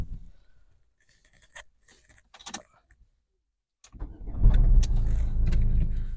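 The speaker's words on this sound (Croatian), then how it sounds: "Auto mirno radi" After a few soft clicks and handling noises, a Ford Fiesta 1.5 TDCi diesel with a five-speed manual gearbox idles nearby with a steady, low, slightly clattery rumble.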